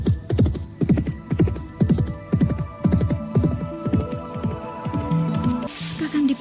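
A horse galloping, its hooves beating a steady, rapid rhythm of heavy thuds close by for several seconds, with a low throbbing undertone and a faint whinny-like tone near the end.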